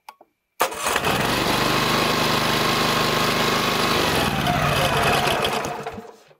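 The small engine of a DNG-2000 automatic hose reel for pesticide spraying starts abruptly and runs at a loud, steady buzzing idle for about five seconds before winding down.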